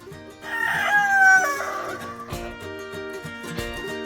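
A rooster crows once in a chicken coop, loud and close, its long rising-then-falling call followed by softer clucking and farmyard chatter.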